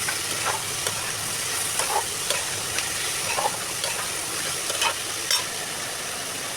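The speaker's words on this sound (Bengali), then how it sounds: "এখন সব দিয়ে একবারে ভালো মতো কষিয়ে নিব" Beans, papaya and cauliflower are stir-fried together in a hot pan, with a steady loud sizzle and hiss broken by regular scraping stirs from a spatula, and no voices.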